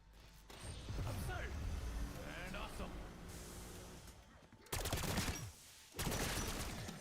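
Rapid automatic gunfire from a purple-rarity, level 2 pack-a-punched gun in Black Ops 6 Zombies, firing in sustained bursts with short pauses while a voice talks underneath.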